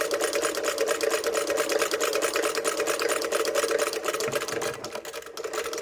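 A hand-crank sewing machine fitted with a modern needle stitches steadily, its fast regular clatter and whirring hum running close and continuous before easing slightly near the end.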